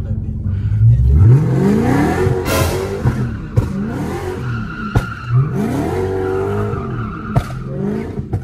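A lowered Dodge Hellcat slides around a corner, its engine rising in repeated revving sweeps with tire squeal and skidding, loud and close, with voices talking over it.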